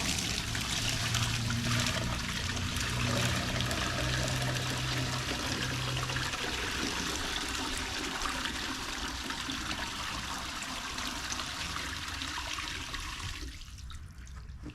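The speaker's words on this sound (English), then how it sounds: "I have a 5-gallon bucket of water. I'm going to try to test this out" Water from a 5-gallon bucket pours steadily through a coanda screen intake, a continuous close rushing and trickling that eases off near the end.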